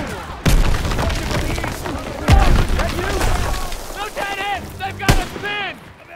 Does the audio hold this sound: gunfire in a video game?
yes